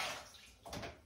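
A formed dumpling of dough slips into a pot of water, a soft splash and wet plop near the end of a brief, quiet kitchen moment with a faint watery hiss throughout.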